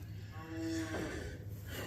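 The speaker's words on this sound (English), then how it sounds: "We just fed a bale to the big steers" Cattle are fed hay bales on a farm as big steers and cows gather at the feeders, and a single nearby animal gives a clear, drawn-out moo over low outdoor background noise.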